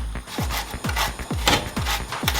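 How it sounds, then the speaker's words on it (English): Fresh ginger is grated over a pan for aloe vera tea with repeated rhythmic scraping strokes, about five of them at an even pace, close and clear with no talk. "This is my ginger. I'm gonna grate this straight in."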